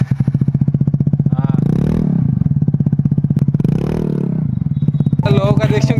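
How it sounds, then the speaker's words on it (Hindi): A modified scooter's aftermarket exhaust blats and revs close by in repeated throttle blips rising and falling over a low idle, with a voice talking over it briefly near the end. "ये रहा एग्जॉस्ट का साउंड दिखाओ।"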